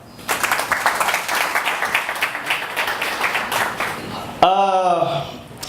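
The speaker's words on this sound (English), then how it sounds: "another big round of applause for that." A community crowd at a book signing event gives a round of applause, a steady wash of clapping that stops abruptly as a voice begins speaking.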